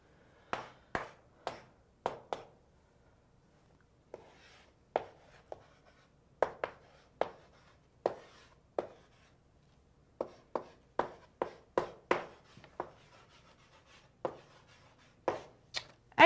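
A pen writing out a calculus integral by hand, heard as a steady run of quick, close taps and short strokes with brief pauses between bursts, and no talking.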